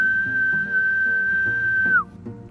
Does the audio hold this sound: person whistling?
yes